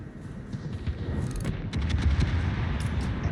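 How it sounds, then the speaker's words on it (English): Rapid gunfire aimed at a Repulse in a combat video game, a dense, continuous barrage of shots over a heavy low rumble that grows louder and fuller partway through, with no talking. "I'll take some shots at this repulse that's coming around"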